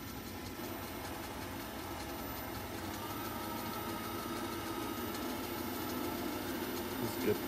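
A polishing machine spinning up to about 1800 RPM while buffing with a new polishing paste gives a steady, mid-pitched motor hum that builds slightly louder toward the end, with no one talking.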